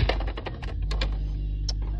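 Keys on a 1990 Collegiate 1000 toy typewriter are pressed in a quick run of close, sharp clacks that slows to a few separate taps, over a steady low background hum.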